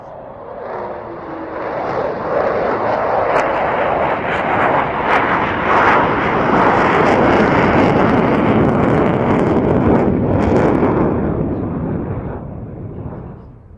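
A Sea Vixen jet passes at an air show at Biggin Hill, its loud, broad roar building for several seconds, holding steady, then fading slowly as it moves away.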